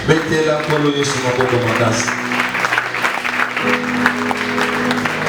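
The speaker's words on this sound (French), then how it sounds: "Acclame tes frères." A church congregation claps and cheers during a Sunday worship service, with sustained applause mixed with a loud voice over a sound system and organ-like sustained tones underneath.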